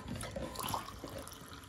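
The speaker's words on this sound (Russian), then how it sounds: "И сюда же холодную водичку" Cold tap water pours into a glass that already holds boiled water, a soft and fairly quiet running splash lasting under two seconds.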